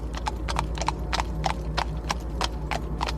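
Horses trot while pulling a carriage, giving a brisk, regular clip-clop of hooves that repeats evenly over a low steady rumble, close and clear.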